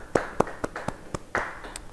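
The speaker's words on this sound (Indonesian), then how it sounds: "Yang percaya beri tepuk tangan bagi Tuhan." Church congregation clapping at a Bible study: a handful of distinct, spaced claps from a small group, moderately close, in an uneven rhythm with a slight room echo.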